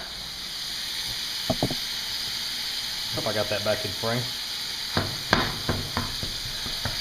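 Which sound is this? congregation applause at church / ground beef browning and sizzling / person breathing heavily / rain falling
ground beef browning and sizzling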